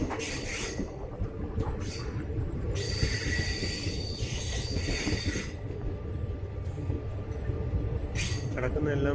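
Old passenger coaches of the 12602 Chennai Superfast roll into Pothanur station with a steady rumble of wheels and rail noise, joined by sustained high-pitched wheel squeal in bursts as the train slows, close and loud.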